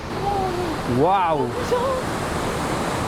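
Ocean waves crash and surge against rocks and through sea caves at Boca do Inferno, a steady loud wash of water with a voice exclaiming over it.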